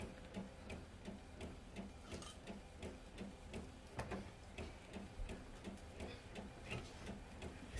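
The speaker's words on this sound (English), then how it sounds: "So that's still printing out." An inkjet printer prints a sublimation transfer with a quiet, steady, rhythmic ticking and soft whirring as the print head shuttles back and forth.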